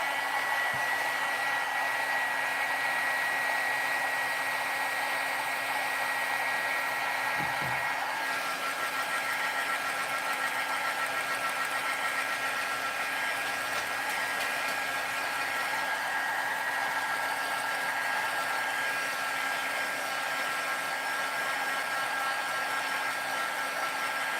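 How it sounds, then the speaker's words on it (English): Hair dryer blowing steadily up close to dry paint, with a constant whirring hiss, briefly shifting pitch early on, then running on evenly. "So just give me 1 second with the dryer."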